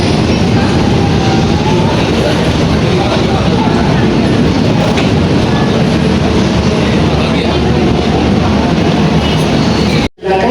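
KA Batavia passenger train on the Gambir to Jogja route, a steady loud rumble of wheels on rails filling the whole stretch with faint clatter, cutting off abruptly near the end.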